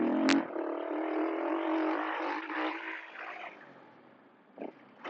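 A 2026 Husqvarna FE501 motorcycle ridden on a motocross track roars close and loud, then fades gradually into the distance with a few brief bursts near the end.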